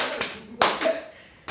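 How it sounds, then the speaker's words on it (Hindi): A few scattered hand claps ring out in a room, with separate sharp slaps at irregular intervals and no talking over them. "ताली आएगा हम लोग समझ लिए"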